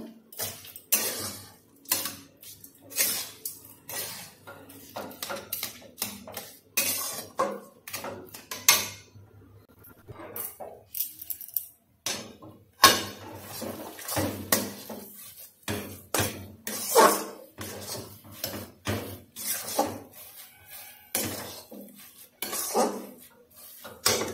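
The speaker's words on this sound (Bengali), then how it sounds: "এবার চিনি সিরাপের সঙ্গে ছানাটাকে ভালো করে মিশিয়ে নেব।" A utensil scrapes and clanks in a pan as chhana is stirred into sugar syrup for sandesh, in close, irregular bursts of metallic clatter with short pauses between.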